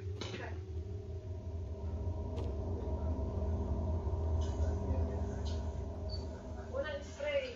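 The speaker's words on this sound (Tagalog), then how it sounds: "Yeah, yeah, that's train, that's train." A train in the video game Little Nightmares rumbles low and steady across the clip, a continuous mechanical drone with faint clanks, while players talk over it.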